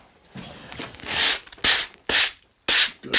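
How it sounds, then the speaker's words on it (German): Hand sanding on a wooden inlaid chessboard: a few firm rasping strokes, close and regular, separated by brief pauses. "Jetzt können wir direkt schleifen."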